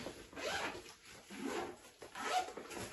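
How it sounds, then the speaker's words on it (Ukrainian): A brand-new Nike backpack's zipper is pulled open in several rough, rasping strokes, close and fairly quiet, with no talking. "замки, знаєте, коли нові, вони посерединки, і ти можеш відкрити в будь-яку потрібну сторону"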